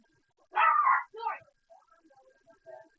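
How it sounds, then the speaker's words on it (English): Chihuahuas barking indoors: a sharp, close bark followed by a shorter yip, then faint whimpering noises trailing off. "there's a dog in the background"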